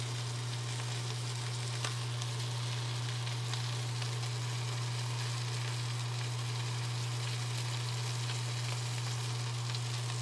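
Wagyu steak frying in butter on a very hot pan or griddle at around 500 degrees, giving a steady, close, continuous sizzle with a low constant hum beneath and no talking.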